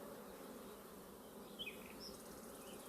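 Honey bees drone around a hive in an apiary, a faint, steady, continuous buzz with a couple of brief closer passes and no voices.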